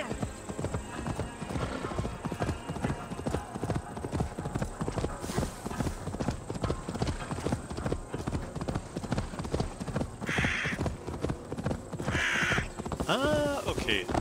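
Horse hooves clip-clop in a steady rhythm while riding through Assassin's Creed Valhalla during the siege of Portcaester, with a whinny and crow calls over the game ambience and someone talking over it.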